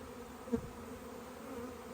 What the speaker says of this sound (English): This is a very big swarm.